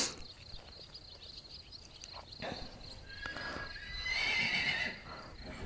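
Horses whinny and neigh outdoors in a Black Forest setting, one loud drawn-out neigh rising near the end over a background of light hoof clip-clops and ambient birdsong.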